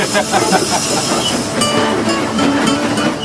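A heritage train on the Gwili Railway in South Wales moves off slowly, with a close, loud rumble, hissing steam and rhythmic clanks and clicks from the wheels and couplings, with a voice faintly present underneath.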